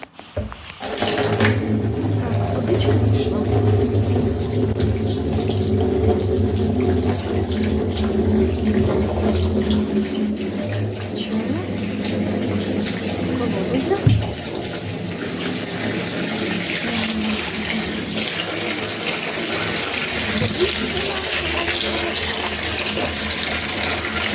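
Steady rushing well water pours into a rinsed barrel for the whole stretch, a continuous splashing fill with no talking.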